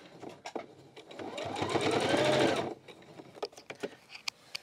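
A sewing machine stitches quilt binding in one steady, fast whirring run of about two seconds, with soft handling clicks and fabric rustles before and after.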